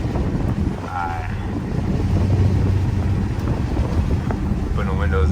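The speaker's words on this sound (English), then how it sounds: "So then y'all hear all that wind." Strong wind outside a Hellcat car during a lightning storm roars and buffets steadily in a low, continuous rumble, loud throughout, with faint traces of a voice underneath.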